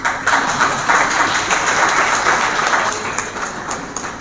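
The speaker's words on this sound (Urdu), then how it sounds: "تو آپ ذرا ڈھنگ سے ایک دفعہ تالیاں ہی بجا دیں" An audience at an indoor Islam-and-West seminar breaks into loud, sustained applause, dense and even for several seconds before tapering slightly, filling the hall with no voices over it.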